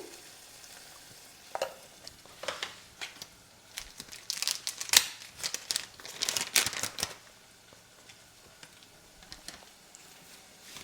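Pepper and cumin powder being stirred into a sauce in a pan, a quiet simmer broken by bursts of scraping and sputtering spoon strokes, loudest in the middle, with no talking.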